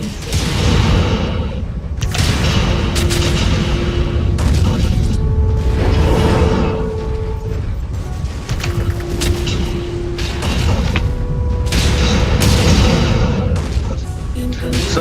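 Missile explosions in MechWarrior 5 boom repeatedly amid a dense, continuous roar of mech combat, with whooshes and mechanical hums layered over loud rumbling throughout.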